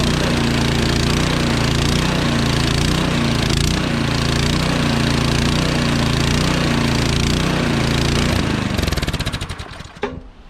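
A Troy-Bilt Storm 2620 Powermore 26-inch dual-stage snowblower engine runs loud and close on choke, chugging with a rhythmic surging pulse before it sputters and dies away at the end.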